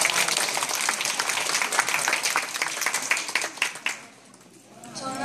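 Audience applause at a church program for fifth and sixth graders: dense, steady clapping fills the room for about four seconds, then quickly dies away to near quiet.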